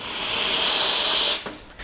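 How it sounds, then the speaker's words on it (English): An espresso machine's steam wand is purged in one loud, sustained blast of hiss lasting over a second before it cuts off sharply, leaving a short tail of faint clicks. "First thing we want to do is just purge our steam wand."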